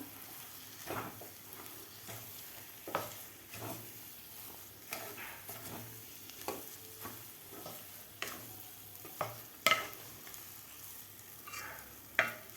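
A spoon works through semolina sheera simmering with milk and sugar in a pan, giving a quiet, rhythmic scraping every second or so over a faint background sizzle.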